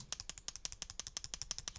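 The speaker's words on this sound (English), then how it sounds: "which was a little hand clapper" Rapid, regular clacking from a small toy clapper, about a dozen crisp clicks per second, close up and fairly quiet.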